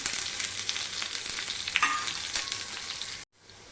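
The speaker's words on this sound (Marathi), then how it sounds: "तेल छान गरम झालं आता याच्यामध्ये अर्धा चमचा मोहरी" Mustard seeds and chilli sizzle in hot oil for a tempering, making a close, bright frying hiss with a few crackles before it suddenly drops away near the end.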